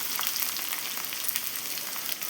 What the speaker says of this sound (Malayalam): ഇനി ഇതിലേക്ക് ചെറിയ ഉള്ളി വട്ടത്തിൽ അരിഞ്ഞതും കറിവേപ്പിലയും കൂടി ചേർത്ത് ഒന്ന് മൂപ്പിച്ചെടുക്കാം